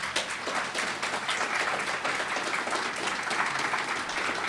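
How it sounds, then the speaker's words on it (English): Audience applause for a speaker closing a Linux security conference talk, dense steady clapping from a crowd lasting throughout, fairly loud and even with no talk over it. "let's give Stuart a round of applause before we let him leave"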